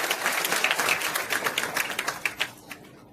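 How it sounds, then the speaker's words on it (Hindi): Audience applause at a Bhagwat Katha gathering, a steady patter of many hands clapping that thins into a few scattered claps and fades out near the end. "तो जोरदार तालियों से स्वागत कीजिए।"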